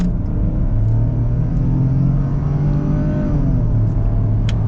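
A lifted 2022 Ford Bronco Sport Big Bend accelerates with a steady, close engine drone and low rumble holding at a constant loud level, tone rising slightly, with no voices.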